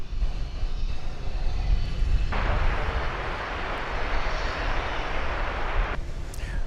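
An American Airlines jet takes off from runway 18 Left at Dallas/Fort Worth airport at night, its steady engine roar loud and broadband throughout, swelling brighter midway as the thrust builds, with no voices.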